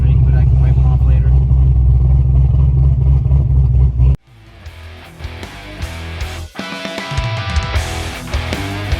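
Chevrolet Corvette Z06, a C6 generation, accelerates hard for the first four seconds with a loud, sustained engine roar. The roar cuts off abruptly and gives way to other quieter sounds.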